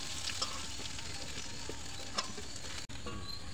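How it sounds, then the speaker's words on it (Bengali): Onions frying in a pan for dal give a steady, close sizzle and crackle throughout, with a faint clink of stirring partway through and no voices. "আমার এখন পেঁয়াজ ভাজা হয়ে গেছে"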